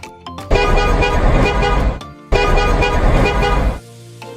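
A bus horn blasts twice in loud, sustained honks, each lasting well over a second with a short gap between them.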